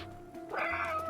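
A single short cat meow from the video game Stray, close and clear over a quiet background hum.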